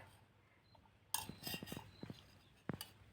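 A metal spoon clinks against a glass of lemon sherbet in a series of quick light taps, with a second cluster of clinks near the end and otherwise quiet surroundings.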